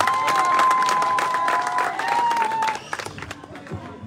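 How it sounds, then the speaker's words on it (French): Outdoor campaign rally crowd in Minvoul, Gabon, applauding for a speaker: dense, loud clapping with cheers and a sustained whistle or horn tone, easing off near the end as a voice comes through. "Merci, on applaudit encore pour lui"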